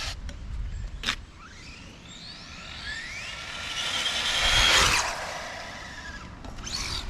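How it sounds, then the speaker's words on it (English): A real car passing on a road near an outdoor RC touring-car test spot, rising from a faint whoosh to a loud broad rush near the middle and fading away, with a brief knock early and another vehicle approaching at the end. "Car's coming."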